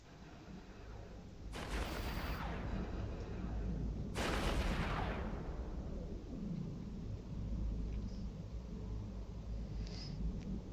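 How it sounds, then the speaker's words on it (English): New artillery turrets fire in the space video game EVE Online: two heavy booming blasts a few seconds apart, each decaying into a long rumble over a quiet background hum. "So here we're gonna hear the new gun sounds, the new artillery sounds."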